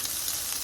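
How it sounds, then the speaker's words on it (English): Brisket searing in a hot pan gives a brief burst of close, dense sizzling with small pops, with no talk. "I don't know if you guys can hear that distinct little popping sound, but that's a good indication that Maillard reaction is going well"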